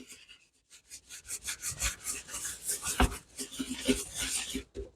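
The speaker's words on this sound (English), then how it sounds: "grab yourself a little brush, and then you're just gonna scrub" Small brush scrubbing around the rubber mouth of a kitchen garbage disposal, giving quick, irregular back-and-forth scratchy strokes close by, with a few light knocks mixed in.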